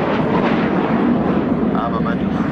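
A RAAF heritage military aircraft, a wartime fighter, flies past at a Williamtown flypast, giving a loud, sustained roaring engine drone that fills the whole moment.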